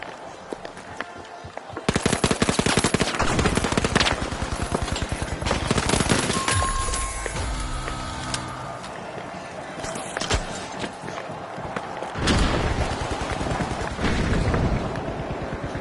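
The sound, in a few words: frag grenade and gunfire from a video game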